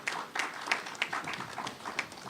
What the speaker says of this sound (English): So you could give yourself a round of applause.